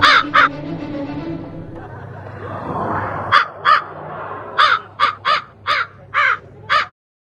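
A crow caws about eight times in quick succession, loud and close, after a stretch of muffled voices and background noise.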